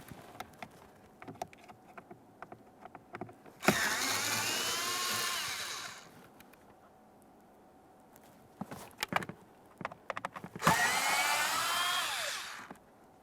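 Power drill spinning out Phillips head screws beneath the glove box of a 2014-2018 Mazda 3: two loud whirring bursts of about two seconds each, close by, separated by small taps and handling noises, with no talking.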